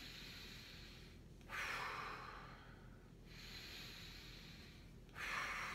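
Breath drawn in through the nose during a lymph-pumping exercise done while rolling the body forward: two or three close, airy inhales that swell and fade, with quiet breathing between them and no talking.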